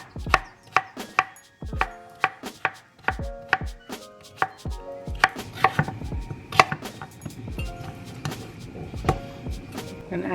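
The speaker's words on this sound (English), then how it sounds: "I tried to chop the cucumber" A knife chops cucumber into small chunks on a cutting board, a long run of sharp, fairly quick, uneven taps, close and clear, growing busier toward the end.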